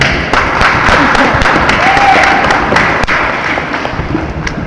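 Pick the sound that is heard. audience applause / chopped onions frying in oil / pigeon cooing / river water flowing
audience applause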